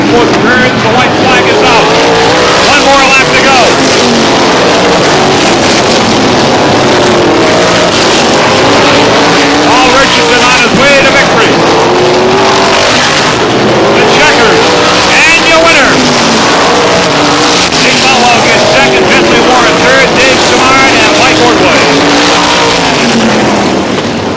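Race cars lapping at Star Speedway, a loud, continuous roar of engines rising and falling as the field passes, with an announcer calling the race throughout.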